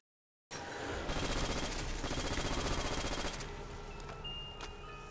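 A PPSh submachine gun fires in Call of Duty: World at War. A sustained, rapid automatic burst plays for about three seconds, followed by fainter scattered shots and game sounds.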